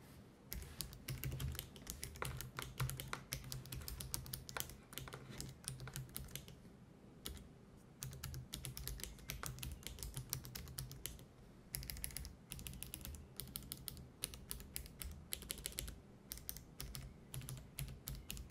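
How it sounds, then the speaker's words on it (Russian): Optical mechanical keyboard on an Asus ROG Strix Scar 15 gaming laptop is typed on continuously, a dense, fast stream of close keystroke clicks with a short pause midway, no talking. "предлагаю послушать, как звучит наша оптическая механика"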